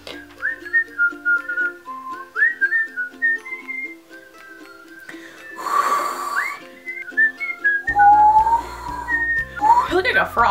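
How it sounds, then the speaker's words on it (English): A person whistles a string of short, wavering notes, including inward-breathed whistles, interrupted by laughter and talking from others midway and near the end, close and fairly loud. "I can whistle inwards"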